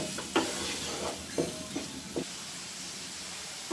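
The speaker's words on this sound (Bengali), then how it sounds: "পেঁয়াজগুলোকে ভালো করে নেড়ে চেড়ে ভেজে নিতে হবে, বাদামি কালার করে নেব।" Onions for a prawn fry being stirred and fried until brown in a pan, a steady hiss of sizzling oil broken by several sharp scrapes of the spoon against the pan.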